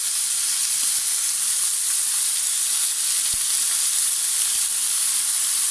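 Meat browning in a pan for gratin tacos, with thyme added, crackles in a dense, steady sizzle that fills the whole stretch at an even, fairly loud level, with no talk over it.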